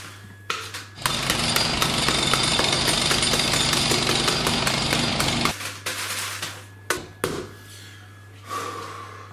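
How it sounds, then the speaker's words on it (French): Jackhammer noise played as music while speculoos biscuits are crushed for a tiramisu, a loud, continuous rapid hammering that runs for about four and a half seconds, then breaks into short bursts and knocks. "Je me mets une musique de marteau-piqueur."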